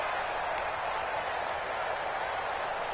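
A stadium crowd in the Madden football video game gives off a steady, dense roar that stays even and loud throughout, with no voices standing out.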